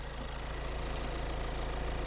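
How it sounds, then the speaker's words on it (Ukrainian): A 2020 Skoda Octavia A8 Style engine idles with a steady, low, even hum, close by and unchanging throughout, with no voices. "двигун працює класно"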